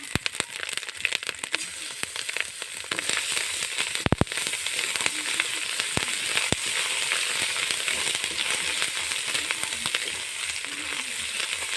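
Poppy seed paste frying in oil with ginger and turmeric, a dense, steady crackling sizzle with occasional sharp pops and spoon knocks, close and loud throughout.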